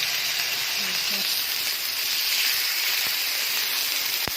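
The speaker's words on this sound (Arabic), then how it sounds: "بعد ما سخنت الزيت تاعنا دوك نبداو نديرو الحوت سمك التونه هكذا." Tuna steak frying in hot oil makes a steady, close sizzle and hiss that holds evenly throughout, with no talking over it.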